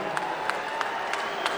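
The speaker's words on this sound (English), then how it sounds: "warm round of applause for our two boxers" A boxing-event crowd gives a warm round of applause for the two fighters before the decision, a steady wash of clapping with faint periodic accents, held at a moderate, distant level.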